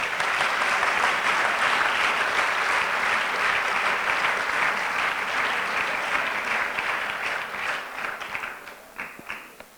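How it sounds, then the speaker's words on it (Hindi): Sustained audience applause fills a church gathering with Urdu/Hindi-speaking worshippers, a dense steady clapping that holds strong before thinning into scattered individual claps near the end. "कामी के लिए भी तालियां बजाएंगे।"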